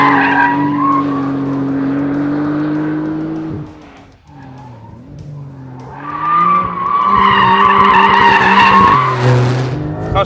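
A 2022 Porsche 911 GTS engine roars and climbs in pitch as it accelerates hard on a race track, loud and close, with a brief dip before revving up again.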